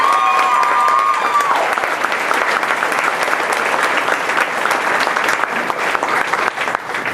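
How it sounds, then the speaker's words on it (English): An audience at a school district board meeting applauds, a dense, even clapping that fills the whole stretch at close range, with a brief tone at the start. "Can we have a round of applause?"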